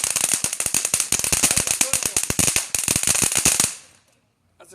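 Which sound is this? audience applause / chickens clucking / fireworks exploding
fireworks exploding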